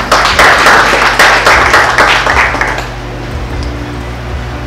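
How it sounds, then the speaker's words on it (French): An audience at a workshop closing session in Haiti applauds loudly and close by, a dense burst of clapping that fades out after a few seconds into a quiet room hum. "On l'applaudit."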